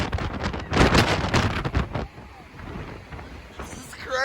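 Strong gusty wind roars across the microphone while riding over a bridge at night, loud, buffeting bursts in the first half easing to a lower rush afterward.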